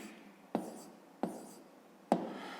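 A pen writes numbers on paper during a fifth-grade maths exercise, giving three short scratchy strokes, each a sharp tap that fades, with quiet gaps between them and no talking.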